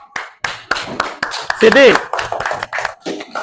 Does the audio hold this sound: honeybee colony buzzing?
no